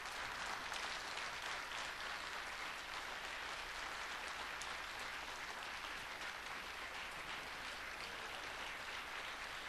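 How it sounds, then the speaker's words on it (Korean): A church congregation gives a sustained, dense round of applause to welcome the pastor at a spring revival Bible meeting, steady and full from start to finish. "우리 존경의 감사의 박수로 환영합니다"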